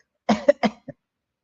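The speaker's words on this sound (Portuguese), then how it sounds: "Agora vocês vão fazer o seguinte, vocês vão tossir" Three quick forceful coughs close to the mic, followed by a softer short final cough, then silence.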